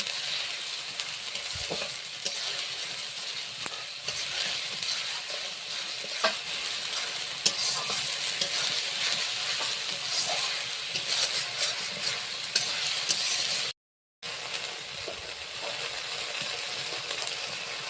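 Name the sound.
garlic paste and onions being stirred and fried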